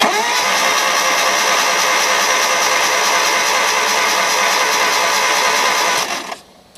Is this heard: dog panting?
no